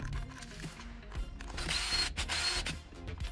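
A GFCI outlet being screwed down into an electrical box gives a close, busy run of mechanical ratcheting and clicking with scraping bursts, loud and steady throughout with no talking.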